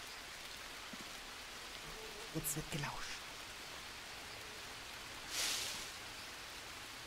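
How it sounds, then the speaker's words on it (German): Rain patters on jungle leaves in the survival video game Green Hell, a soft, constant hiss of drops throughout, with someone speaking briefly over it and a short rustle later. "wenn der Regen da auf die Blätter prasselt"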